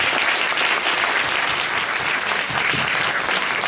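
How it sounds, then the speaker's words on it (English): A steady, full round of audience applause rings out for a panel of speakers at a community talk on housing justice in Portland, Oregon, with dense clapping throughout and no speech. "please give a round of applause, please, for this great panel of speakers"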